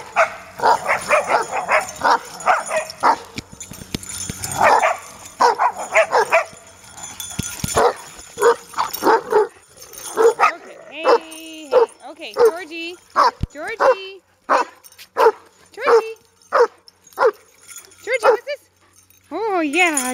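Pet dogs yip, bark and whimper excitedly indoors in short, high bursts, close and fairly loud, mixed with a person talking to them.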